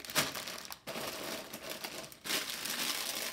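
Plastic parts bags from a Lego Technic 42098 Car Transporter set crinkle and rustle close to the microphone in two loud bursts separated by brief pauses, with no speech.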